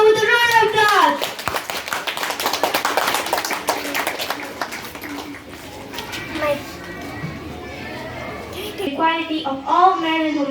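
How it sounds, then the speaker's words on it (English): Clapping from a school assembly audience, mixed with children's chatter, welcoming a student speaker to the stage; voices are heard at the start and end. "Let's welcome her with a round of applause"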